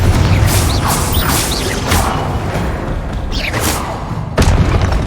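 A loud, dense blast from the Confringo spell in Hogwarts Legacy, a booming explosion with rumbling low end and whooshing bursts layered with game effects, continuous and close.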